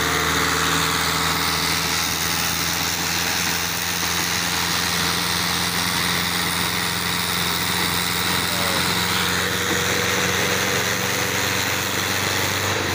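A tractor engine works hard while pulling a tree stump out of a garden, giving a loud, steady, close drone with a constant high mechanical whine and no letup.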